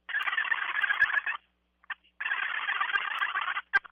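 A wild turkey gobbler gobbles in two loud, rattling bursts outdoors, each lasting over a second, with a short gap and a few faint clucks between them.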